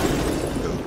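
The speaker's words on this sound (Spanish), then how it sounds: "Una explosión de la gran perinola" A deep, rumbling dynamite explosion boom in Red Dead Redemption 2, loud and sustained with a broad roar, heard alone without talk.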